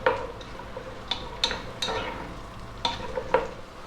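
Onions, celery and harder vegetables for a brown lentil stew cook in a pot, a low steady sizzle broken by about five sharp spoon scrapes and clinks against the pot, close up with no talk.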